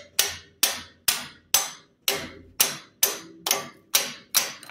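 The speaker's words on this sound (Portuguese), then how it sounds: "Dá uma pancadinha, ó." A light hammer taps a 10 mm steel rod set into a hole in a wall for a suspended scaffold, ten crisp, evenly spaced strikes that ring briefly and fade, close and alone.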